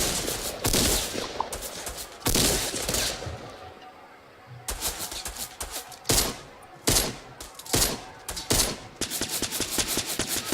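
Rapid bursts of submachine gun fire from a Fortnite match, several loud rattling volleys separated by short pauses, with fast clustered shots near the end.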